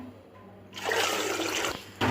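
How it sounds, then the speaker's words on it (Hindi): A brief rush of water pours and splashes into a pot of kadhi, stopping and then starting again at the end. "अब इसमें मैं थोड़ा सा पानी भी डालने लगी हूँ।"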